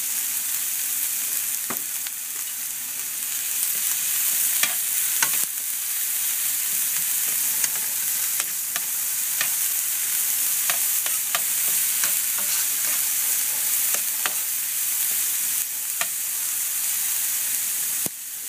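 Garlic, onion and ginger fry in a pan for ginataang langka with meat, giving a steady hissing sizzle with scattered pops and crackles and occasional stirring clicks, continuous and alone with no talk.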